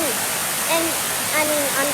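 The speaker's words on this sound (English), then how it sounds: "Hopefully you can hear me over the roar of the waterfall" A major waterfall in the Lake Superior region roars as a constant, dense rush of falling water up close, while a person talks over it.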